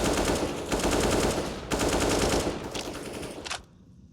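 Automatic rifle fire in Counter-Strike: Global Offensive during a professional match, loud sustained bursts of rapid shots with brief gaps between them, cutting off abruptly near the end.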